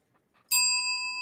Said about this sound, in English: You got a bell for that one.